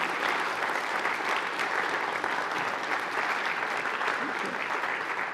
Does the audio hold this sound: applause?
yes